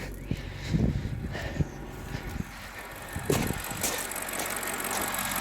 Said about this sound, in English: The engine's now running